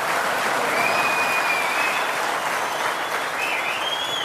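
A studio audience at a televised courtroom-style interview show applauds in a sustained, dense burst of clapping that holds steady and fairly loud throughout, with no voices over it.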